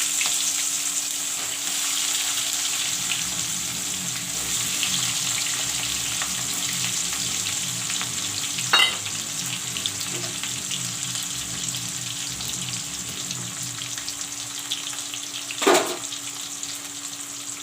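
Chopped onion frying in a pan for fish masala curry: a continuous, moderately quiet sizzle with two brief metallic clatters partway through, and no speech.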